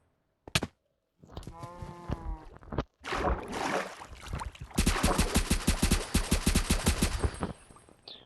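Rapid gunfire from a weapon mod in Minecraft, a few separate shots followed by a long, fast, evenly spaced burst of automatic fire, fairly close and crisp against near silence.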